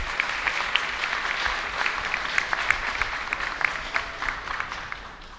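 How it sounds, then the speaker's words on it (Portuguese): A roomful of people at a council session gives a sustained round of applause, a steady crackle of many hands clapping with sharper individual claps, fading slightly at the end. "Uma salva de palmas aí para os dois companheiros"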